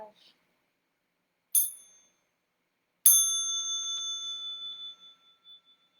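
A small mindfulness bell sounds twice, close and clear. The first strike is a short ding. About a second and a half later the second strike rings out with a long, fading shimmer in an otherwise quiet room.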